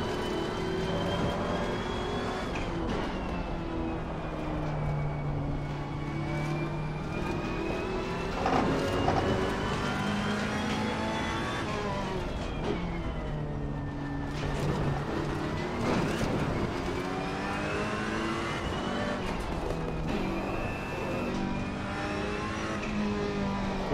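A Ferrari GT3 race car engine in the racing game Assetto Corsa Competizione, lapping the Hungaroring in multiplayer, drones steadily and loudly throughout, its pitch climbing and dropping through repeated gear changes and revs.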